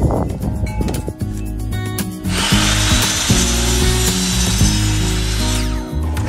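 A power saw cuts a scrap wood board to length for a raised garden bed, with clicking and handling noises leading into a loud, sustained cutting roar lasting a few seconds.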